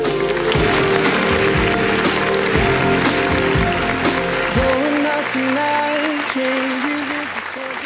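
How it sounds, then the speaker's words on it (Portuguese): Loud, sustained clapping from a large crowd at a 15th birthday celebration, steady across the whole stretch with a voice speaking over it via a sound system. "uma grandiosa salva de palmas"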